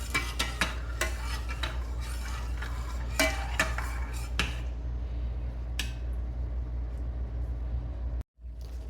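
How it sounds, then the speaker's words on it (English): A spoon stirs lemon sauce in a pan over high heat, giving a series of close clinks and scrapes against the metal in an irregular rhythm over a low steady background hum, then stopping. "I'm going to give it a slight mix,"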